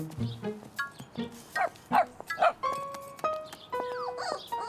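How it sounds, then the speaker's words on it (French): A small dog barks in short yips and whimpers several times, close by, with a bright whistle-like tone and other light sounds in between, from a French-dubbed Caillou cartoon. "C'est le petit chien."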